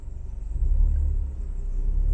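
A 2019 Ford Fiesta ST-line MK8 four-door automatic idles at low revs under gentle throttle, giving a close, deep, steady engine rumble that swells slightly partway through.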